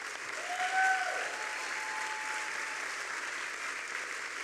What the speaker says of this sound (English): So I would like a private round of applause for Mary.